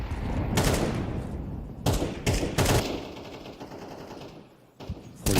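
Rapid bursts of automatic gunfire from a Counter-Strike match at a professional esports tournament crack loudly, with several sharp volleys and single shots in close succession and no voices.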